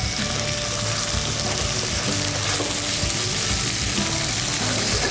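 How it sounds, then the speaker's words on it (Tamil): Mutton sautéing in a pan for yakhni pulao gives off a dense, continuous frying hiss, loud and unbroken, with faint stirring beneath and no voices. "மட்டன் வதங்கிட்டுருக்கு."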